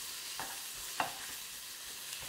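Slivers of beef sear in a hot wok with a soft, steady sizzle, punctuated by a few light scraping knocks of a utensil against the pan, fairly quiet and close.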